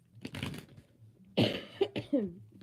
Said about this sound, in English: y'all hear that nasty cough?